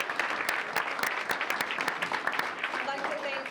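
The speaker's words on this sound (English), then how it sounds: "if everybody could just put their hands together for this great group" An audience applauds grant recipients at a gathering, steady dense clapping from many hands throughout, fairly close and even.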